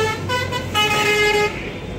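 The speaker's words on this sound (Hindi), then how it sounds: "गाड़ी बाहर में है और यहाँ पर हाईवे है इसी कारण।" A roadside highway carries continuous traffic noise, with a vehicle horn sounding in loud, sustained blasts over the rumble of passing cars and trucks.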